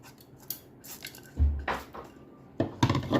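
Chutney and tempering spooned from a pan into a mixer jar, with a few sharp clinks and scrapes of a spoon against metal. A soft thump comes in the middle, followed by a brisk rattle of strikes near the end.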